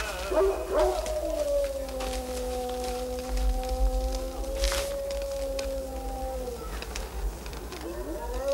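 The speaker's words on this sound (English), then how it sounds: "The animals out there. Possibly they're desert dogs." Desert dogs howl at night, long sustained wavering howls that overlap and slide in pitch, steady and fairly loud over a low background rumble, with a few short yips.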